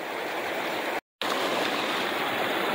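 River water rushes steadily through a gold sluice, a constant broadband wash with one brief silent dropout partway through.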